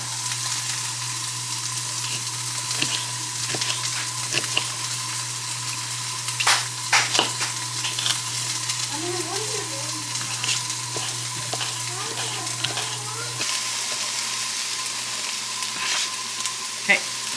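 Peppers, onions and honey garlic sausage fry in a pan with a steady, moderate sizzle, joined by occasional scraping stirs and a low constant hum.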